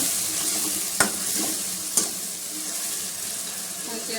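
Chopped tomatoes and spices fry in a pan with a steady, soft sizzle, punctuated by two sharp clinks of a spoon against the pan about a second apart while stirring.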